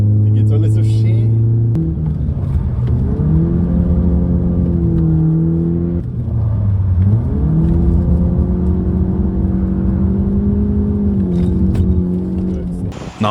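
A BMW E36 drift car's engine drones and swells as it is pushed to its limit, a loud, sustained rasp whose pitch climbs, dips and rises again in long sweeps, with a voice talking over it.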